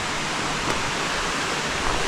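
Steady, broad roar of rushing water at the top of a waterfall in SE Queensland, a loud continuous wash that stays even throughout.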